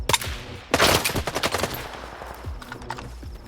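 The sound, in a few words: AK rifle gunfire against bandits in video game S.T.A.L.K.E.R. 2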